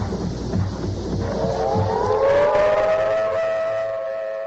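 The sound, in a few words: air raid sirens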